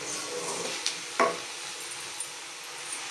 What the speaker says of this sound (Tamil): நல்லா எண்ணெயில் வதக்கலாம் பாருங்கள் கத்திரிக்காய் இன்னும் கொஞ்சம் கலர் மாறணும்